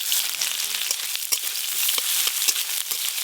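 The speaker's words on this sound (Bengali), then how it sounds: "পেঁয়াজটা খুব লাল করে ভেজে নিয়েছি" Chopped onion fries with dried red chillies in hot mustard oil, giving a close, steady sizzle with frequent crackles and small pops throughout.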